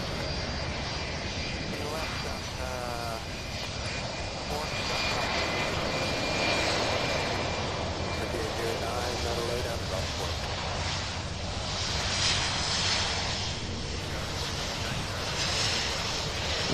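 A fixed-wing airplane flies near Louisville International Airport, a loud, sustained engine roar with wind noise throughout, while people talk over it.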